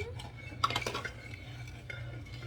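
Shakoy sugar mixture being stirred in a pot, a faint spoon scraping and clinking against the metal in a short quiet sequence.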